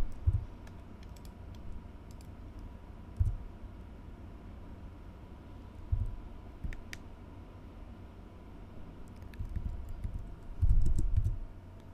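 Keystrokes on a computer keyboard as commands are typed, an uneven run of soft clicks with a few louder bursts over a steady low background hum, no voices.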